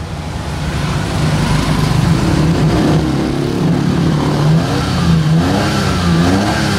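An old red van's 32-horsepower engine revs steadily and loudly, its deep rumble rising and holding with a rough mechanical drone throughout.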